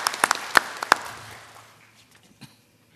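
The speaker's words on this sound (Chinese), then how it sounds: "让我们以热烈的掌声对各位领导到来表示欢迎" A few sharp, separate hand claps ring out in a large hall at a city founding ceremony as leaders are welcomed, then the sound thins into quiet room tone with one last faint clap near the end.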